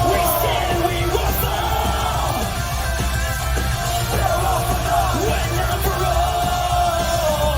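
A concert crowd at a metal show roars and yells continuously, a dense wall of cheering and whoops that stays loud and steady throughout.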